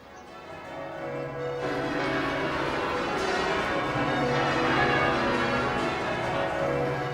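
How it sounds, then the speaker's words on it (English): Church bells ring out in celebration across Britain, a dense wash of overlapping bell tones that swells and holds steadily, loud and reverberant with no voices. "Church bells rang out across Britain in celebration of this first victory by the British Army over the Germans."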